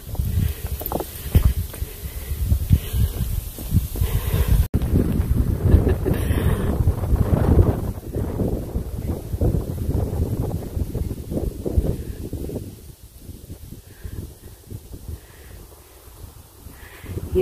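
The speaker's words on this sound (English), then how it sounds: "It's nice and windy now with that storming all around us" Strong wind buffets the microphone in loud, uneven gusts on the Appalachian Trail with a storm nearby, easing somewhat toward the end.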